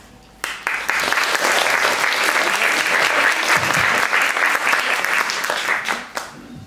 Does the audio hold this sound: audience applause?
yes